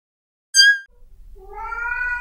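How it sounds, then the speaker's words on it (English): A cat gives a short, bright meow, then a longer rising meow follows over faint low background noise. "Oh, kitty cat."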